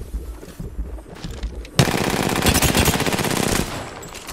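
Gunfire in a fast-paced shooter: distant muffled game sounds give way to a sudden loud, sustained burst of rapid shots that lasts nearly two seconds before tapering off, with no talk over it.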